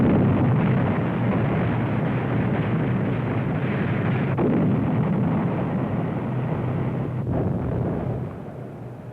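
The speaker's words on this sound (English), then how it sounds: "open for Stuka dive bombing and strafing" Dull explosions from Stuka dive bombing in World War II North Africa rumble through a muffled, continuous roar of aircraft noise, heavy booms blending into the steady din of the raid.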